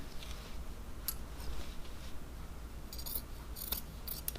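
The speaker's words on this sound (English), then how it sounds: "I just want to trim to the right of that stitch line" Scissors trimming duck canvas beside a sewn stitch line, a series of quiet crisp snips spaced irregularly over faint background hiss, close and soft, with no talking.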